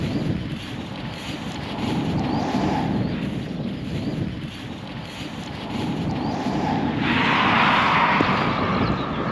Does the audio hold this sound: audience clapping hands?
no